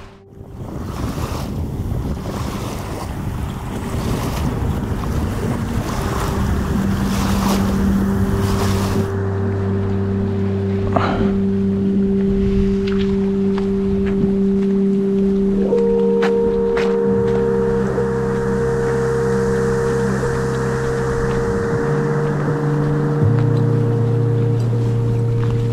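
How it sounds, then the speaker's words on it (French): Warm wind blows steadily across a lake during a winter carp-fishing session at Lac du Diable, with waves lapping against the bank in a continuous close wash and gusty rumble of wind on the microphone, and no talking. "le vent s'est bien levé, comme je disais. Ça tape sur la bordure, un vent chaud"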